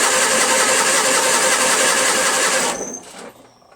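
Onan 16HP opposed-twin engine on a Toro Wheelhorse 616Z zero-turn mower, cranking with the choke on in a steady, loud, churning starter drone that stops abruptly near the end, leaving quiet.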